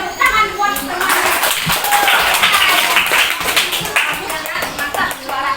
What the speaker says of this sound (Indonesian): Sekarang tepuk tangan buat temannya